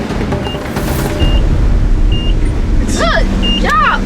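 An Iveco 4x4 truck grinds up a rocky Blue Mountains track in low range, its engine a steady low rumble throughout while people shout and cheer excitedly over it.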